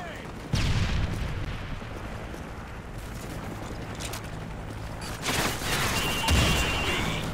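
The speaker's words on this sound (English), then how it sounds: "Tossing stun grenade." A stun grenade goes off in Modern Warfare 3 multiplayer: a sharp, loud burst that drops into sustained battle rumble, with a second surge of blasts near the end amid constant gunfire.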